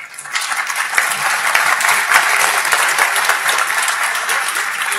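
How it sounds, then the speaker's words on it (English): Conference audience at a mining industry panel session breaks into sustained applause, a dense, steady wash of many hands clapping that swells quickly and holds evenly, with no talk over it. "Please a round of applause."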